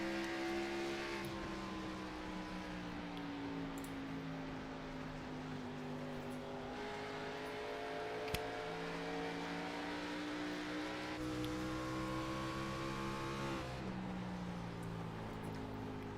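Several race cars lap an oval track in a racing series event, engines droning and shifting pitch together as they run side by side, a sustained, moderately distant roar with no talk.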